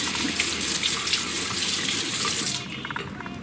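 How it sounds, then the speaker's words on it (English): Lukewarm tap water runs steadily over a freshly tattooed arm during washing, a close, continuous splashing rush that thins out toward the end as the flow is cupped and redirected. "I'm gonna start off by cupping my hand and letting the water roll off my arm."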